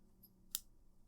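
Scissors snip once through the end of a part while converting a fightstick into a retro arcade controller. One short, sharp close snip stands alone against a quiet background.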